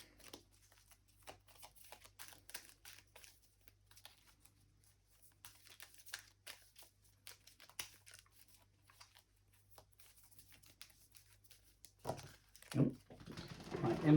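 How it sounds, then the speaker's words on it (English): Playing cards from an action deck are shuffled by hand in a series of soft riffling, slapping bursts, ending in a louder flurry of shuffling near the close; a faint steady hum runs underneath. "My infamously bad shuffling has made a return"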